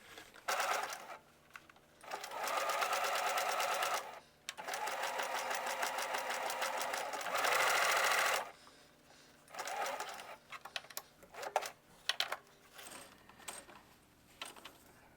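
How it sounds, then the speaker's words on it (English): A home sewing machine zigzag-stitches elastic onto a McCall's M8097 skirt, running in several loud sustained bursts of whirring stitching separated by short pauses, then a few brief clicks and stops near the end. "I've zigzag stitched the elastic."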